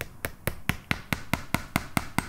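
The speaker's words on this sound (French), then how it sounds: "et avec le marteau," A hammer drives a pin into a felt hat block, striking ten or so sharp, evenly spaced blows in quick succession, close and distinct with no talking.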